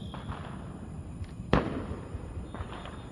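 Fireworks going off outside at night, heard from a distance: one sharp bang stands out mid-stretch amid faint crackles and pops over a low background hum.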